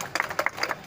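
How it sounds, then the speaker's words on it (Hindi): Scattered hand claps from a small crowd at an outdoor commemoration for Bhagat Singh in Chandpur, Uttar Pradesh, a short uneven burst of separate claps rather than full applause. "तालियों के साथ"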